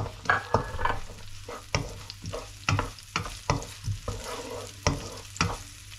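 Onion and garlic sautéing in a pan for chopsuey, a steady close sizzle broken by repeated sharp scrapes and clacks of a utensil stirring, roughly one or two per second, with no talking.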